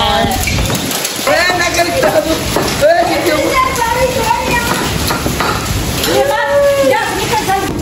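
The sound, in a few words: heavy rain falling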